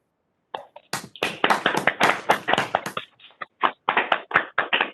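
Applause for a graduating probation and parole academy class, starting after a brief pause as sharp, closely spaced claps that swell into steady clapping, then thin out to scattered claps near the end.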